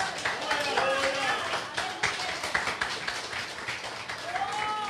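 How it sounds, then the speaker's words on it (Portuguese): Church congregation clapping in worship, a rhythmic patter of hands mixed with voices and singing or shouting over it, fairly loud throughout. "Aplaude que ele é digno."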